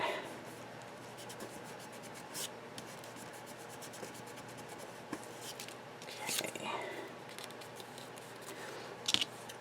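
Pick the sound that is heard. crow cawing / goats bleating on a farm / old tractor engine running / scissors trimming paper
scissors trimming paper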